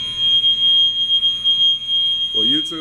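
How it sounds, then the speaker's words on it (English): Steady high-pitched electronic tone of a smoke or fire alarm sounding indoors in Arkansas, continuous and loud, with a voice breaking in near the end. "It could be a carbon monoxide alarm."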